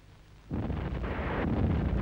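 Depth charges detonating underwater in a film scene: a sudden deep, loud boom erupts after half a second of quiet, then rolls on as a sustained low rumble with a second surge near the end.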